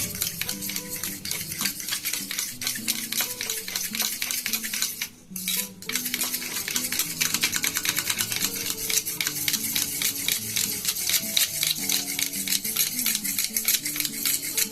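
A fork stirs sugar into yogurt for doi fuchka, making rapid, continuous metallic clinks and scrapes against the bowl, close and steady, with one brief pause midway.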